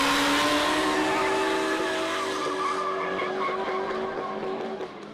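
A supercharged V8 drift car slides through a track transition, its tires squealing loudly and continuously over the droning engine, heard from fairly close at a drifting event.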